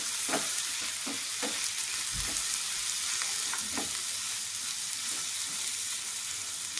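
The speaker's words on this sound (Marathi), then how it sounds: "मसाले शेंगदाणे काजू खोबरं वगैरे सर्व मिक्स करून छान भाजून घ्यायचं" Masala spices, peanuts, cashews and coconut roasting in a pan for dhaba-style shev bhaji, a constant dry sizzle with scattered scraping stirs and light crackles, close, without talk.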